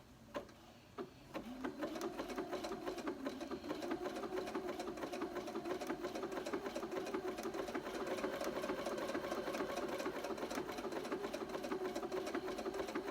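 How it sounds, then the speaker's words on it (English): A sewing machine stitching a corded buttonhole in knit fabric runs steadily after a few opening clicks, a continuous close mechanical whir with a fast regular needle rhythm, no voices. "let's go ahead and stitch our buttonhole here"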